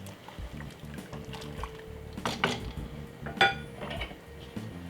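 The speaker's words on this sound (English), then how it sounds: "Give it a stir." Butter being stirred into Jamaican rice and peas cooked with coconut milk in a pot, heard as soft scraping and clinks of a spoon against the pot, with a few brighter metallic taps near the middle.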